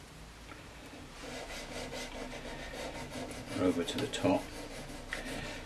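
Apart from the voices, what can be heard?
sandpaper on a file rubbing guitar frets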